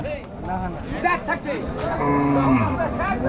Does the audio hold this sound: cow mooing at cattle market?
yes